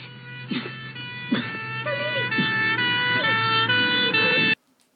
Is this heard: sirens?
yes